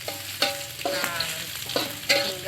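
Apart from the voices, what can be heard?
shallots and garlic frying in hot oil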